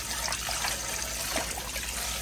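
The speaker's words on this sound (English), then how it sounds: "add some water with the vinegar." Water mixed with vinegar pours and trickles over about 5.5 pounds of raw goat meat being washed, a steady close splashing flow with no talk.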